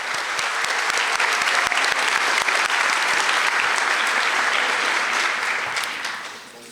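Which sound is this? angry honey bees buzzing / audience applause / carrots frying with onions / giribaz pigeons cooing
audience applause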